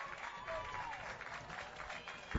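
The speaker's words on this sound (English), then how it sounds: "to an applause from the Roanoke faithful" Applause rises from the home crowd at a men's college lacrosse game, a steady wash of clapping and cheering under an announcer's play-by-play commentary, somewhat distant and muffled.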